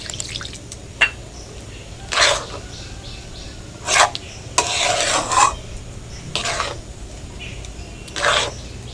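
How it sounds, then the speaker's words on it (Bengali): A little water is poured into sweet langcha dough made with ripe palm fruit and milk, giving soft splashes and wet stirring squelches in short separate bursts over a low steady hum. "এবারে দিচ্ছি অল্প একটু জল।"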